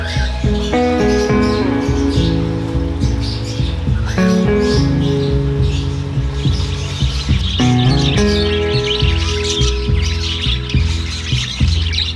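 Parakeet chicks chirp and squawk continuously at close range, a dense overlapping chorus of shrill calls with steady loudness throughout.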